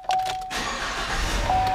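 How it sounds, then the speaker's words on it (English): A used Chevrolet Silverado truck's engine cranks briefly and catches, settling into a steady close idle inside the cab, with a chime tone sounding at start and end. "Truck fires right up."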